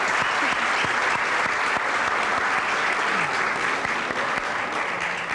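Studio audience applause on a 1998 Turkish television talk show, a dense, loud burst of many hands clapping that carries evenly throughout, with individual claps standing out now and then.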